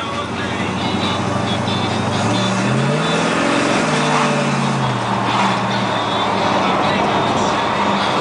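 A 1955 Ford Customline with a big block engine speeds up on the road, its loud engine note sweeping upward and then falling back, with someone talking over the constant road noise.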